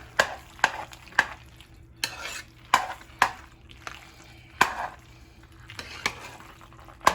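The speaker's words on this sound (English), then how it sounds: "Stir it all together." A spoon scrapes and knocks repeatedly against a pan while a seafood stuffing mixture is stirred, producing regular close clacks about every half second over a faint background hum.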